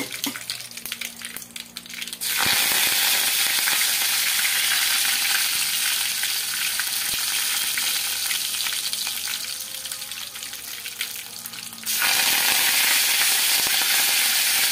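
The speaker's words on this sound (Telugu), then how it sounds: "చక్కగా వేగుతుంది అనమాట." Punugulu batter frying in hot oil: a loud, steady crackling sizzle fills most of the stretch, quieter before and after as the batter goes in, with occasional stirring and bubbling.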